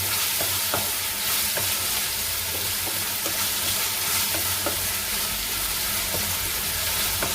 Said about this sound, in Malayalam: നമുക്ക് നല്ലോണം ഒന്ന് വഴറ്റാം.